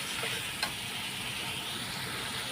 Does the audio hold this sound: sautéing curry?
yes